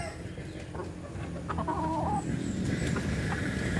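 A Peruvian Giro Scorpion gamefowl rooster gives a few short clucks up close, with a farmyard murmur behind it.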